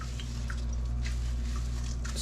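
Soaked soy curls squeezed by hand to press out water, giving a few soft wet squishes and drips over a steady low background hum, close and quiet.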